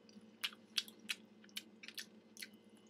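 Close, soft chewing of scrambled eggs, with about seven moist, squishy bites in an uneven rhythm and no talk.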